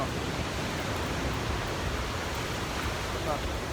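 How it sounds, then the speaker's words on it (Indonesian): Ocean surf washes continuously onto the beach at Lhok Ketapang, a steady broadband roar with no distinct breaks, heard alone without speech. "Tuh, guys, ombaknya, guys."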